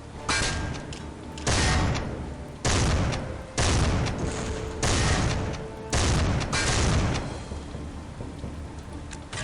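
Grenade and weapon blasts from the video game Soldier of Fortune: several loud, heavy booms at roughly one-second intervals, each with a long rumbling decay that runs into the next, with no talking.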